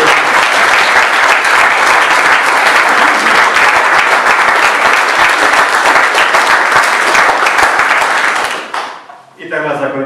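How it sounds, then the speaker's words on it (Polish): A hall audience at a concert of Passion songs breaks into loud, sustained applause, a dense wash of clapping that fills the room before fading out near the end, where a voice begins over the tail. "Wielkie oklaski."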